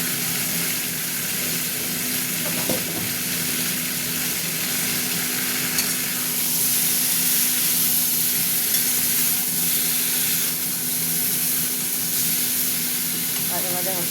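Mixed vegetables frying in a pan for shukto, a close, steady sizzle with occasional stirring scrapes throughout, while a person talks over the cooking.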